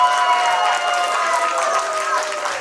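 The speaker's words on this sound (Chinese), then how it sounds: "来，我们全场朋友祝福的掌声哦。" Guests at a wedding dinner in Penang's Ming Garden break into sustained applause, a dense, even wash of clapping from a large crowd that continues throughout, slightly easing toward the end.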